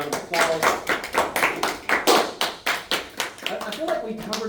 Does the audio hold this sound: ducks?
no